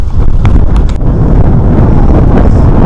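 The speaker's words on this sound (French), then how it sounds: "Il y a beaucoup de vent, je sais pas si vous voyez bien." Strong wind buffets the microphone on Place Jacques-Cartier in Montreal, a loud, continuous low roar with gusty rumbling throughout.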